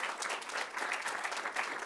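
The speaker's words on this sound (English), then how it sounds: "That's when you applaud." A lecture audience applauds, a brief burst of steady, moderately distant clapping from many hands that continues evenly throughout.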